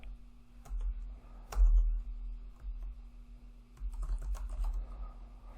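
A prompt is typed on a computer keyboard with bursts of quick, close key clicks separated by short pauses, over a low steady hum.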